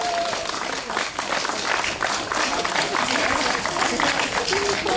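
A crowd at a speech breaks into applause, dense clapping that stays steady and loud throughout, with voices mixed in.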